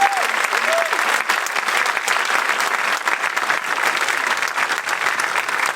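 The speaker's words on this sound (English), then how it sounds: "a bit of a round of applause for the percussion section there" An audience claps for a percussion section, a dense, steady wash of applause filling the room for several seconds, with a voice briefly audible at the start.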